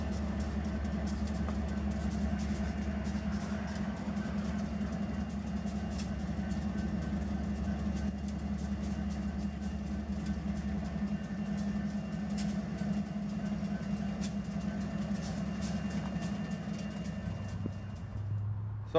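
Union Pacific locomotives idle in a rail yard, a steady low diesel rumble that holds even and continuous at a moderate distance, with the tone dropping slightly near the end. Nobody speaks.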